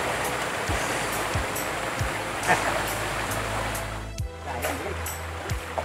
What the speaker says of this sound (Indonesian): Kita masih berada di sebuah sungai yaitu Leuwi Caringin